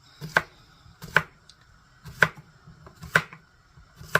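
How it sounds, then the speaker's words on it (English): Unpeeled cucumbers chopped with a knife on a board, five crisp, evenly spaced chops about a second apart, close and clear with no talking. "And we're just going to chop them up."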